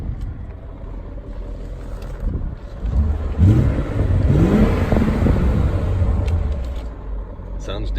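A 2000 car's engine idling, then revving up and holding a higher grumbling drone, close by at a Copart auction yard, with someone talking over it.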